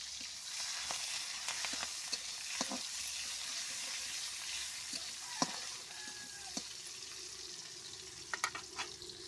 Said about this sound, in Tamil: இப்போ வெங்காயமும் பச்சை மிளகாயும் சேர்த்துக்கலாம் சேர்த்தாச்சு இப்போ வதக்கிக்கலாம்